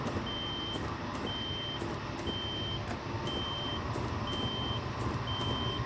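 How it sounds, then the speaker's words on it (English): Warning beeps sound in the cab of a Caltrain MP36 locomotive on the SF Peninsula Corridor in Train Simulator, a steady series of evenly spaced, clear electronic tones repeating about once a second over a constant engine rumble. "Beeping is warning information"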